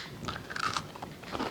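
Crisp crunching bites into a crunchy ginger cookie, several close snaps and chews over about a second and a half, with no talking.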